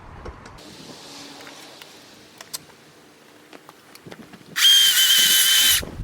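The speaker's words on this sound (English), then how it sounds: "Love this new electric battery powered chainsaw." An electric battery-powered chainsaw bites into wood in a yard, a loud high whirring burst of about a second after quiet scattered knocks and rustles.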